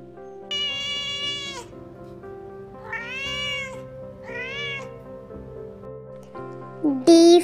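Several drawn-out cat meows, three long cries then a sharper final one, loud and close over a soft musical backing.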